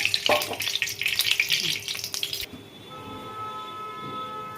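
Soybean kofta balls sizzle loudly in hot white oil for about two and a half seconds, then the frying cuts off abruptly, leaving a quieter hum with faint tones.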